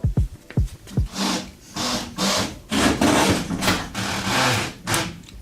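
A brand new tire on an E30 with a custom steel widebody kit rubbing on the inner fender liner at full steering lock: repeated loud scraping, grinding rubs in uneven bursts, close up, with no talk.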